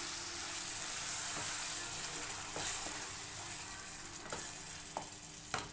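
Ground tomato paste fries in a pan for a paneer vegetable kurma, giving a steady broad sizzle with occasional short clicks of stirring throughout; no voices.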